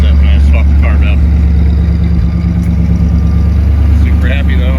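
A 1958 Buick Roadmaster engine sits at a steady high idle through a freshly installed full exhaust with two mufflers and two resonators, a loud continuous low rumble with a voice talking over it.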